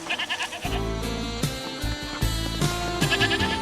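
A goat bleats repeatedly in loud, wavering, nasal calls, one after another close by, with no other voices.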